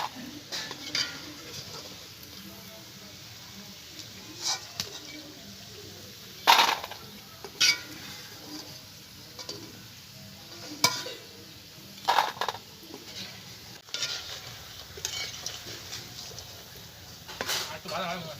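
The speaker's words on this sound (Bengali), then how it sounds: "দেখুন এগুলো ভাজা হয়ে গেছে, আমি তুলে নিচ্ছি" Chicken pakoras fry quietly in hot oil with a soft, low sizzle, broken by sharp clinks and scrapes as a metal utensil lifts the pieces out. The sounds come close and intermittent, with no talk.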